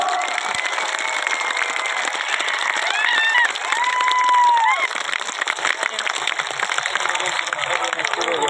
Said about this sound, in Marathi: एकदा जोरदार टाळ्यांचा जल्लोष